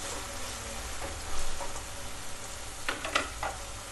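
Pieces of chicken frying in a pan with tomato for a dry chicken curry, a steady close sizzle with occasional brighter crackles and soft stirring scrapes.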